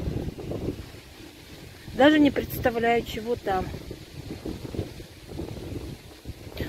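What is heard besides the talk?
strong wind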